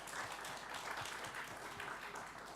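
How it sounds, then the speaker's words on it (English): Soft, steady clapping from a lecture audience thanking a speaker after a scientific talk on natural and artificial photosynthesis, fairly faint and even throughout. "we'll have a clap first"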